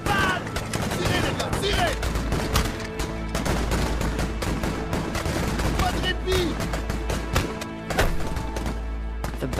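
Volleys of musket fire at a reenactment of an 1837 Canadian Rebellion battle, with dense, continuous cracks and booms layered over one another throughout, loud and close, with a voice faintly present in the mix.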